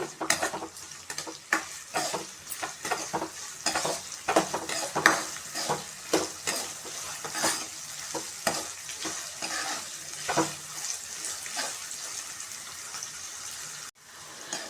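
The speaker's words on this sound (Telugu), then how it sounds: "ఆనియను బాగా ఫ్రై కావాలి కొంచెం గోల్డెన్ కలర్ వచ్చేదాకా ఫ్రై కావాలి" Onions fry until golden for tomato chutney, a constant close sizzle with frequent scraping and stirring strokes against the pan, cutting off abruptly near the end, no talking.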